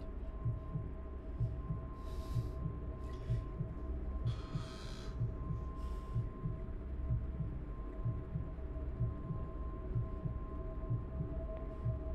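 Steady heartbeat sound effect in the video game Welcome to Kowloon, regular low double thumps repeating throughout over a constant hum, with a few brief bursts of noise above.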